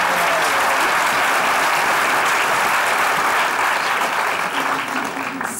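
A studio audience at a comedy stage show bursts into loud, sustained applause as a character makes her entrance, steady dense clapping with no talk over it.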